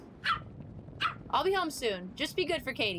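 A pet dog named Sammy yips and barks in short bursts through a phone call within a video game, faint and brief, while a person talks over it.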